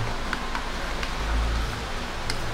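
Rain falls steadily outdoors during a typhoon in the Philippines, a soft, even hiss with a few faint drop ticks and a low rumble, no voices.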